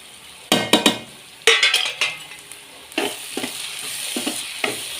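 Turmeric, chili, coriander and garam masala powders are stirred into onions and green chilies in a hot pan. A metal spoon scrapes and clinks in loud, close bursts over a soft, continuous sizzle.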